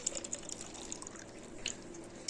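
Warm water is poured into a container to dissolve liquid soap. The steady, soft watery trickle has small drip-like splashes and stays faint and close.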